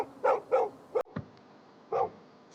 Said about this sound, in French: Pourquoi il aboie si tard?